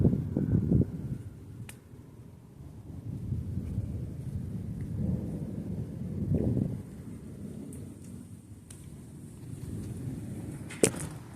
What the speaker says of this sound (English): some thunder is rumbling the whole ground, or rumbling the whole county.